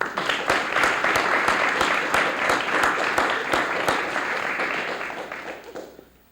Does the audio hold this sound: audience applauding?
yes